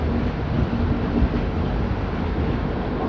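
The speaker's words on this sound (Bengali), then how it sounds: "পাঁশকুড়া থেকে ছাড়ার কিছুক্ষণের মধ্যেই ট্রেন খড়গপুর পৌঁছে গেছে।" A train rolls into Kharagpur station with a continuous loud, broadband rumble and rattle of the carriages, a steady roar from inside the moving train with no speech.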